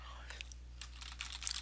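Fingers type on a computer keyboard while filling in an online classified ad, a quick irregular run of light plastic clicks that grows busier toward the end, close and fairly quiet against a low steady hum.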